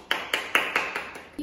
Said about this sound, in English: Let's clap our hands for your job.